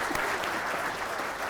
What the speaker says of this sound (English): We've got to give him another round of applause.